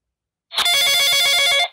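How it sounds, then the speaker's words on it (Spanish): Telephone ringing sound effect from the InShot video editor's effects library: a bright, rapid electronic bell trill that rings continuously for just over a second, loud and alone. "aquí tenemos también efectos de, teléfono"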